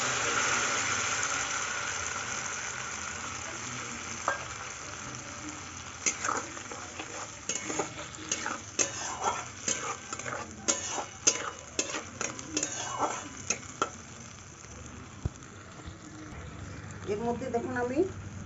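Ginger, chili and tomato paste frying in a pan for restaurant-style mixed vegetables, with a steady sizzle and repeated scraping stirs growing busier midway, under a voice talking at times.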